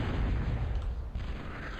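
Heavy booming explosions from a bombing run in a 1999 real-time strategy match, a dense continuous rumble of blasts filling the whole stretch at steady loudness, with no voices.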